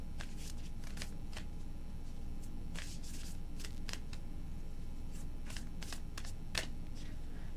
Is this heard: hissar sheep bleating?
no